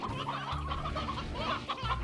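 Chickens in the game Slime Rancher cluck repeatedly and close up, a busy overlapping run of clucks and low calls with no speech.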